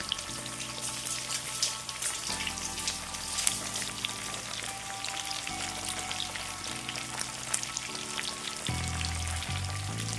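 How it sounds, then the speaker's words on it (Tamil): Taro root (seppankizhangu) pieces fry in oil in a fry pan, a constant, dense sizzle with crackling and occasional shifting or stirring noises, no talking. "நம்ம இந்த ஃப்ரை பேனில் தான் நல்லா வறுத்தா கொஞ்சம் சீக்கிரமாக அந்த செவந்துடும்"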